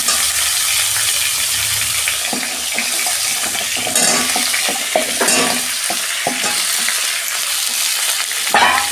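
Drumstick, potato and eggplant fry in a pan with a steady, loud sizzle, broken by scraping stirs and a few sharp clinks of utensil against the pan, and no voices.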